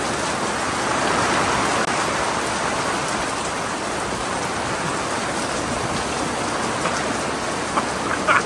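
Heavy British rain pours steadily onto surfaces outdoors at a drum studio pod build site, a dense, even hiss close by, with a few louder drips near the end and no voices.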